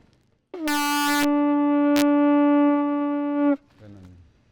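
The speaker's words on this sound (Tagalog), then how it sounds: "Gawa siya sa cone shell or helmet shell. Lagyan lang siya ng butas. Dito siya ibublow." A budyong, a horn made from a cone or helmet shell, is blown in one sustained, loud, steady tone lasting about three seconds, rich in even overtones, with a short breathy tail after it stops.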